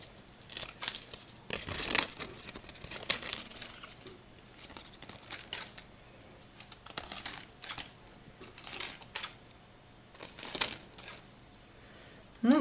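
Scissors snip leaves off a homemade lemon cutting, giving a series of sharp, close, irregular crisp cuts with rustling in between.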